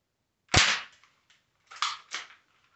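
Airsoft BBs striking a Werewolf adhesive target, a sharp close snap followed by two lighter cracking hits about a second later, with a faint tick between them and no talking.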